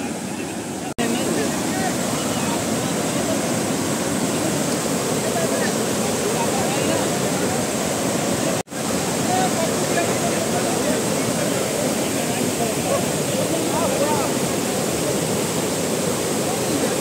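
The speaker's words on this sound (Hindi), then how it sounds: "दोस्तों देखिए ये झरना है" A waterfall on a mountain trail near Butwal roars in a steady, loud broadband wash that stays near and constant throughout, with one brief dropout partway and no other sounds standing out.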